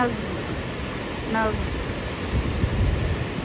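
High-tide ocean surf washes steadily onto a Florida beach at Huguenot Park in Jacksonville, a continuous broad rushing roar with some wind buffeting the microphone.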